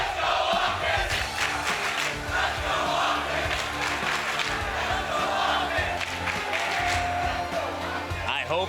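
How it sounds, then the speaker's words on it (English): A loud, dense esports crowd roars and cheers continuously at the MLG Columbus Open grand finals, with rhythmic chanting swelling through the din. "I hope the crowd mics are picking up the cheers here."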